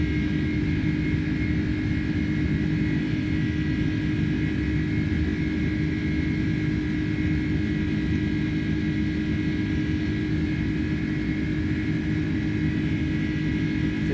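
Airbus A310 jet engines at climb thrust in Microsoft Flight Simulator 2020, a steady loud drone with a constant whine running unbroken throughout, no talk.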